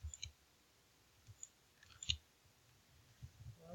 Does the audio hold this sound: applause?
no